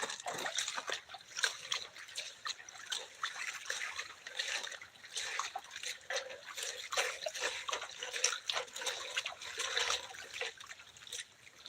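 Gravel and rock material swirled in a gold pan full of water, a continuous sloshing, trickling wash with repeated scraping pulses.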